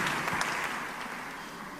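A church congregation applauding, a dense and steady clatter of many hands heard from a distance at low volume, with no voices over it.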